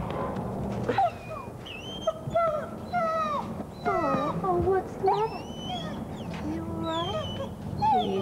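A dog in a dog food commercial whimpers and yips in repeated high, wavering cries, interspersed with short barks, fairly close and steady over a constant background hum.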